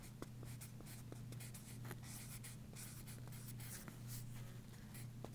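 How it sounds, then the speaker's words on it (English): A pen scratches out words on paper while drawing a cartoon birthday cake, a faint, close, continuous scribbling with small tapping strokes and no talk over it. "you can write happy on the first rectangle and then birthday"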